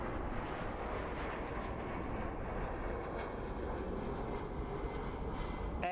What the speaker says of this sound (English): Delta flight from LAX coming in, our Skywest connection flight.